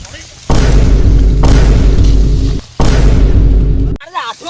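A firecracker bursts with two loud, roaring blasts, each lasting a couple of seconds, close and overwhelming, followed by a short moment of voices.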